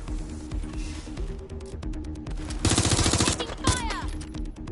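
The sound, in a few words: gunfire in the video game Watch Dogs Legion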